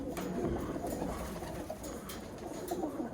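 Birmingham Roller pigeons cooing softly in a loft, low murmuring coos over a busy, noisy background.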